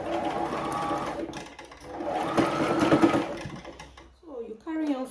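A sewing machine stitches fabric for a double knotted turban hat, whirring in two long steady runs with a short pause between, followed by a voice speaking at the end.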